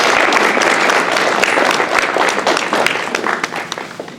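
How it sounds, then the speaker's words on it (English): A round of applause at a meeting, strong and sustained from a room of people, gradually thinning into more distinct individual claps toward the end. "let's give Jessica a round of applause"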